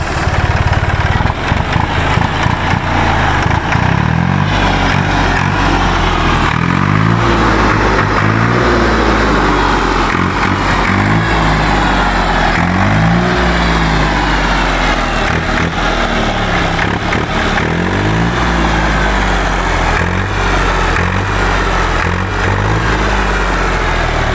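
An old Massey Ferguson MF 260 tractor engine cranks and catches, then settles into a loud, steady diesel chug with a lumpy idle rhythm that continues throughout.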